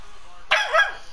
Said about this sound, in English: No barking. No barking.